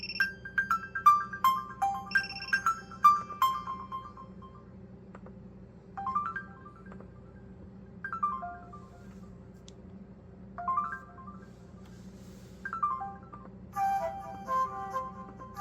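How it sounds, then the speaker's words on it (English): Default Windows system sounds on Windows 8.1 Delta Edition Beta 1 running on real hardware: a series of short chimes and jingles play one after another over a steady background hum, with no talking. "Let's listen to the Windows default."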